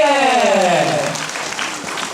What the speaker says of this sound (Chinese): 掌声鼓励一下，谢谢。